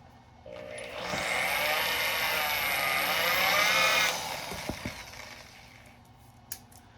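A wire stripper machine whirs steadily for about three seconds with a high, rising mechanical whine, then spins down, leaving a few faint clicks and taps close by.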